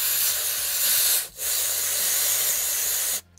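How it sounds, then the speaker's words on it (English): Aerosol can of silicone spray hissing onto a cloth while cleaning an abandoned Range Rover P38, a loud continuous spray that breaks off briefly, resumes, then stops. "give a bit of a spray with silicone spray"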